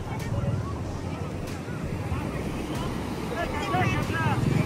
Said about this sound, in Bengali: বাহ কি বাতাস